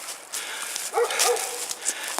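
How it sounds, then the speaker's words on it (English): Golden retriever barks faintly in the distance at an outdoor campsite: a couple of soft, muffled woofs over quiet ambient air. "A dog barking in the distance, like a golden retriever."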